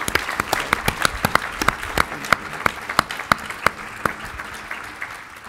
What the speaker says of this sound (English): I would really like it if you clapped like heck for the Beedie school.